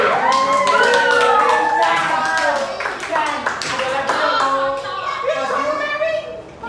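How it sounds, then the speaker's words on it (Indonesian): A classroom of students claps together in a steady burst that runs throughout, with children's voices and chatter mixed in over the applause. "selanjutnya tepuk tangan buat Rizky"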